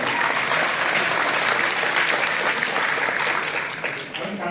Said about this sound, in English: I did feel that the level of applause was a little low.